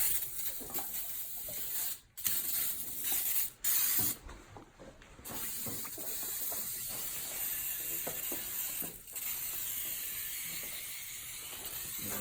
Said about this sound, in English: cleaning the motor, degreasing all of it